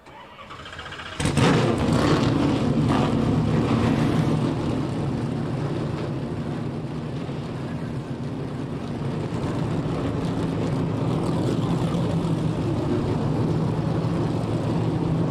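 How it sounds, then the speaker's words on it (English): Trans Am TA2 race car engines fire up together at a speedway, a sudden loud crack followed by a steady, dense roar of many idling V8s that holds on without talk. "drivers, start your engines."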